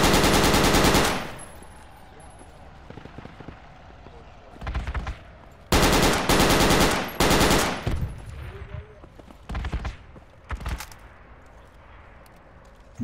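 Loud bursts of machine gun fire in the Project Reality military game come in several separate volleys, some close and heavy with sustained rattling, and quieter distant shots between them.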